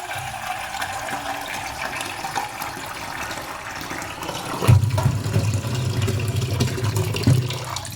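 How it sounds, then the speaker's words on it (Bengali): Water is poured into a pot of dried fish set on a gas flame to soak it. A faint hiss builds, then a fuller gushing pour starts partway through and runs steadily to the end, close by. "এবার আমি একটু জল দিয়ে দেব শুটকিটাকে ভেজানোর জন্য।"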